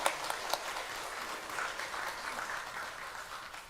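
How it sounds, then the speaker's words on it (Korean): A church congregation at a Sunday afternoon worship service applauds to give glory to God, a dense, even wash of many hands clapping that holds steady for several seconds at moderate distance. "우리가 하나님께 한번 영광의 박수 올려드렸으면 좋겠습니다"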